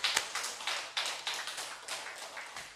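Church congregation clapping together at a revival service, a quick, steady run of fairly close hand claps that continues throughout without speech.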